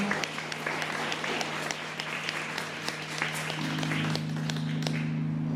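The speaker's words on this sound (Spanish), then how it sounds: "Denles un aplauso, por favor." Church congregation applauding first-time visitors at a service, steady crowd clapping with a sustained musical tone humming underneath, moderate and continuous throughout.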